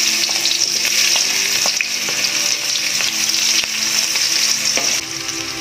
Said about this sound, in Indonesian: Selanjutnya, kita tumis bawang merah.